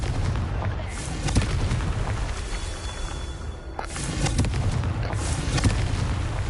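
A Confringo fire spell from Hogwarts Legacy gameplay bursts in a booming blast, followed by another heavy explosive impact, loud and dense with rumbling low end.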